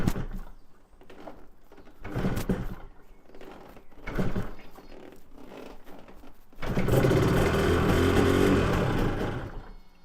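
A Yamaha TZR 250 3XV two-stroke motorcycle, reluctant to run, is kicked and sputters intermittently, then catches and fires through both exhaust pipes with a rough, loud, sustained burst of engine noise at close range.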